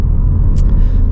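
A Ford Focus RS MK3 engine running on a Revo map produces a loud, deep, continuous rumble, heard close and alone for about a second.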